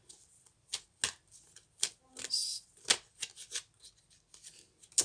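Tarot cards are drawn and laid down one after another, making close, crisp snaps and soft slides in an irregular rhythm, with no talking.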